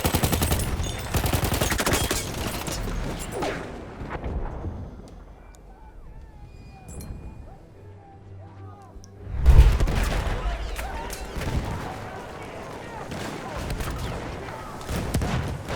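Battlefield 1 battle scene with rapid bursts of machine gun fire and heavy booms, loud and dense at the start, fading into a quieter lull, then a sharp blast and renewed firing, with voices shouting throughout.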